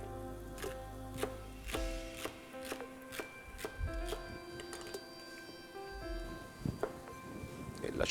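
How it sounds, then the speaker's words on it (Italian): A knife coarsely chopping vegetables, onion with the skin left on among them, on a board in a kitchen, giving a steady run of sharp close thuds under a faint voice. "andiamo a tagliare queste verdure, un taglio abbastanza grossolano"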